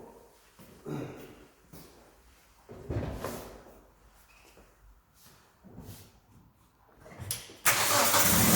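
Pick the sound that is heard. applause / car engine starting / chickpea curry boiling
car engine starting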